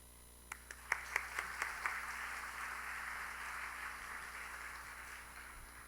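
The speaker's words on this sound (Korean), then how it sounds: "우리 나오실 때 큰 박수로 환영하고" A church congregation at a Wednesday evening service welcomes its pastor with applause that begins as a few distinct, separate claps and swells into a soft, steady round, faint and distant.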